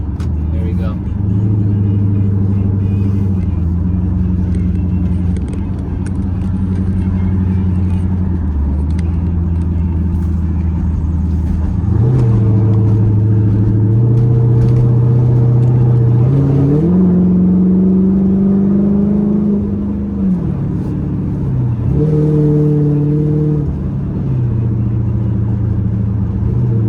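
A Dodge Charger engine held at a steady drone that rises and drops in pitch as manual gear shifts are made from inside the car, with someone talking over it throughout.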